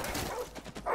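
Dogs barking and yipping in Modern Warfare Remastered, in a rapid, close cluster, loud and continuous over about a second.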